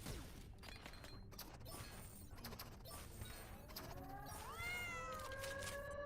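Space cats armed with lasers meow inside a VR video game, with a few faint, rising electronic mews near the end over a dense bed of quiet game noise and clatter.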